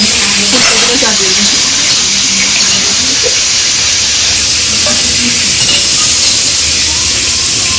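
Potatoes fry in hot oil for a cauliflower and potato curry, a steady broadband sizzle running throughout with occasional stirring scrapes, while a voice and background household talk sit underneath.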